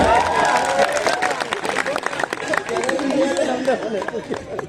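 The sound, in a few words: audience applause at a poetry gathering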